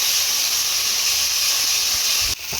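Spices with garlic and onion sizzling and frying in a pan for aloo paratha filling, a steady loud hiss throughout, close up and without talk, briefly dipping near the end.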